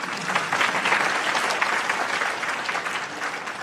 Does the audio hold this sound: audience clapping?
yes